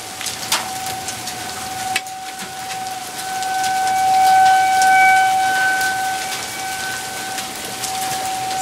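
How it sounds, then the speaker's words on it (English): Warning sirens wail steadily through a violent hail storm with lightning, a sustained tone holding across the scene over a constant hiss of hail and rain. "Sirens are going off violently."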